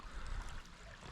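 Creek water flows and gurgles steadily nearby, a soft continuous rushing with no voices over it.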